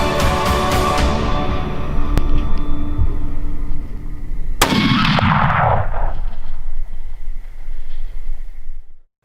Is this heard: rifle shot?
yes